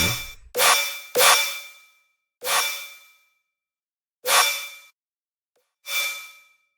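Synthesized snare hits from an Ableton snare generator rack, six separate strikes with long ringing, metallic decaying tails, spaced irregularly and heard alone without talk.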